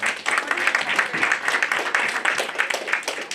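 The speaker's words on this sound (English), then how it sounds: "Round of applause for all of them." Applause from a crowd at a county Democratic election night party, a dense continuous patter of hands clapping for several seconds, moderately loud and close.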